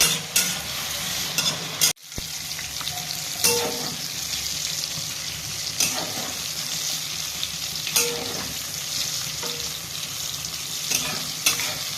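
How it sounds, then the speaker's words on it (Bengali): Fish frying in hot oil with turmeric, a steady close sizzle broken by repeated scraping stirs of a spatula against the pan, with no talking. "ভালো করে সাঁতলে নেব।"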